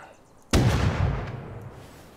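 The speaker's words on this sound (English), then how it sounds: "Bringing up the shotgun." A single loud shotgun blast in the Rust video game, sharp and close, with a booming report that decays over about a second and a half.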